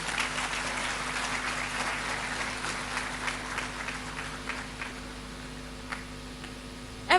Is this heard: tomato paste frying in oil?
no